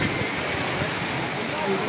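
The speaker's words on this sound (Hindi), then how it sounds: "बहुत अच्छी बरसात है आपके।" Steady, dense rain pouring down, a constant hiss of drops hitting surfaces without pause.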